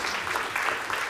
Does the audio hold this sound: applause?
yes